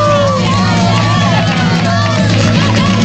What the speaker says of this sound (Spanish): ¡Un aplauso para el Emeterio!